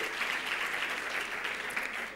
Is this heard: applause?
yes